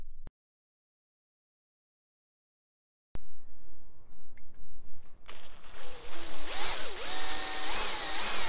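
Electric drill boring a small hole for a bolt during café racer motorcycle construction, a short pause then a sustained grinding whine that rises in pitch and intensity as the bit bites, close and loud, no talking.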